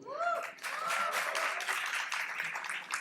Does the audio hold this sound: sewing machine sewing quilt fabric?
no